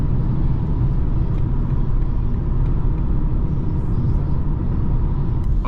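A BMW car drives on a German road, heard from inside as a steady, loud low rumble of engine and road noise, continuous and unchanging throughout, with no talking.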